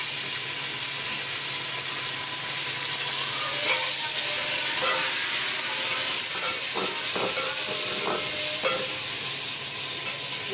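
Tomatoes hitting onions already frying in a pan for yakhni pulao, a loud, continuous sizzle and hiss with clicks and clatter of stirring on top, no one speaking.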